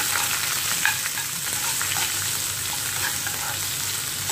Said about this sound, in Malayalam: ഇനി ഇതിനകത്തേക്ക് ഒരു ചെറിയ സവാള കട്ട് ചെയ്ത് ചേർത്ത് കൊടുക്കാം. നന്നായിട്ട് ഇളക്കി കൊടുക്കാം.